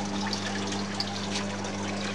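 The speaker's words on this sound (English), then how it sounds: "So I'm just filling up the tank at the bottom" Water trickles and pours steadily into the bottom tank of a growing setup, a faint, even flow alongside a low steady hum from a pump or motor.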